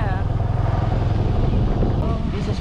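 A motorcycle engine rumbles steadily and close by while riding on a safari tour in India, a loud continuous drone with faint voices mixed in underneath.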